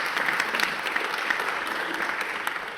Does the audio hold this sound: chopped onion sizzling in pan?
no